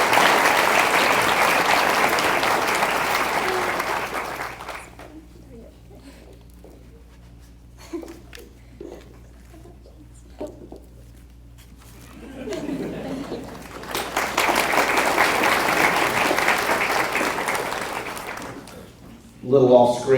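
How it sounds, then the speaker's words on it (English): An audience at a high school senior awards ceremony applauds loudly with scattered cheers, fades to quiet while a speaker talks over a faint hum, then breaks into a second long round of clapping. "We are cheering for you."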